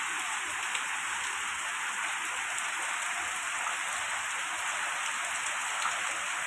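Heavy monsoon rain pours down steadily in Sylhet, a dense continuous hiss of drops striking surfaces nearby, unbroken and even in loudness with no voices.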